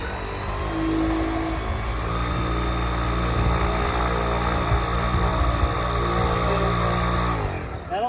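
Electric paraglider motor and propeller held at cruise: a loud, steady whine with a constant droning tone that runs unbroken for several seconds, then drops away abruptly at the end.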